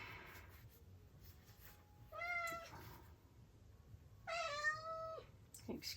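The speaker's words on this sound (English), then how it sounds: "Excuse my cat, she is not hungry" A cat meows twice close by, each a drawn-out cry with a pause between, set against a quiet indoor room, followed by a brief softer sound at the end.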